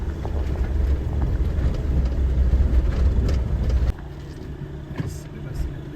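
An off-road vehicle grinds slowly over rough, soft ground at a backcountry camping area, its engine rumbling loud and steady before easing quieter partway through, with some talk mixed in.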